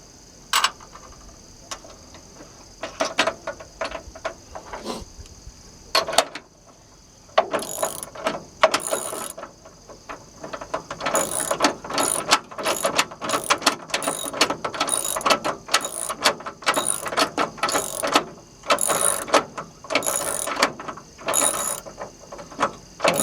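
A ratchet wrench turning a bolt on a one-ton truck chassis, rapid pawl clicking in repeated strokes that start sparse and become a dense, steady run of close, crisp ratcheting, with no talking.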